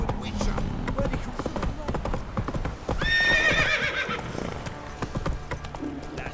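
Roach, Geralt's horse in The Witcher 3: Wild Hunt on PS4, clops along with steady hoofbeats and gives a clear, loud whinny midway, with music and a voice in the background.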